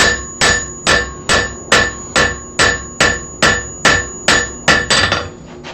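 Hammer peen blows texture a metal leaf as it is turned, a steady run of about a dozen bright, ringing metallic strikes, evenly spaced and close up, with no voices.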